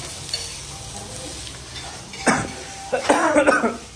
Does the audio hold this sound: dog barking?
no